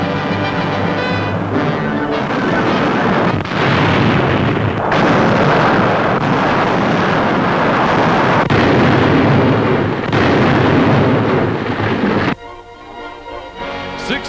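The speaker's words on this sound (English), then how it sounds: "Across Lake Bizerte, U.S. artillery reduces the Nazi-held naval base." U.S. artillery shells a Nazi-held naval base across Lake Bizerte in wartime newsreel footage: a dense, continuous roar of blasts and rumbling barrage, loud and sustained, ending abruptly into quieter noise.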